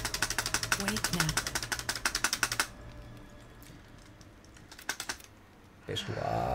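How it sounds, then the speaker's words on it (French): A mechanical keyboard is mashed during a Baldur's Gate 3 gaming session: a dense, rapid run of loud key clicks, a quieter lull with low background hum, then a short second burst of clattering keys. "Matraquage de clavier mécanique."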